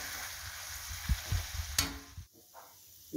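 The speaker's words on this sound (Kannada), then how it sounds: "ಚೆನ್ನಾಗಿ ಫ್ರೈ ಆಗಲಿ" Egg tawa masala frying on a hot tawa, a quiet sizzle under a few soft scrapes and stirring knocks, then a brief pause before the hiss picks up again.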